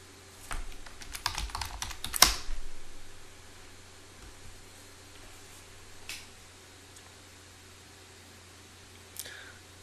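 Someone types a login on a computer keyboard in a quick flurry of close, crisp keystrokes, then a few isolated key taps spaced out over a quiet, hissy background.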